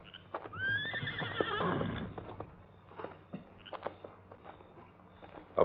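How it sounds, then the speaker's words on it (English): Restless cavalry horses whinny, one long rising-and-falling neigh standing out near the start, followed by snorts, shuffling hooves and scattered clip-clop in a quiet outdoor setting. "the occasional whinny of restless cavalry horses"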